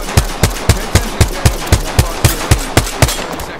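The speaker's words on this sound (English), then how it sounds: "I am taking fire, friends." In Apex Legends, an automatic weapon fires a loud, steady burst of about fourteen evenly spaced shots, each sharp crack landing roughly four times a second, close and punchy.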